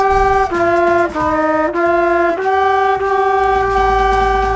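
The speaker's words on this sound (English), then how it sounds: "two instruments are not in tune and they're fighting and it sounds out of tune" Two sustained woodwind tones play together slightly out of tune, producing an audible wavering beat as notes change every half second or so.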